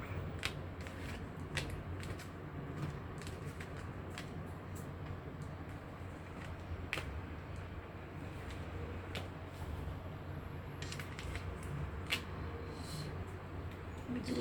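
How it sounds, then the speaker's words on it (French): Tarot cards being drawn one by one and laid down on a table, a string of faint, quiet snaps and soft slaps over a low steady background hum. "je pose les cartes en bas et je vais tirer 13 cartes"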